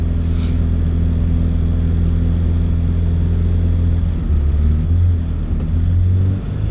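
Red Honda Civic with a turbocharged B20 VTEC engine running about 6 pounds of boost pulls hard on the street, a loud continuous engine drone heard from inside the car with a deep steady rumble that rises near the end.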